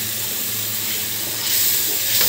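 A spice paste of turmeric, chili, cumin, coriander and salt fries with tomatoes in a pan, giving a continuous hissing sizzle that swells slightly louder toward the end, with no talk.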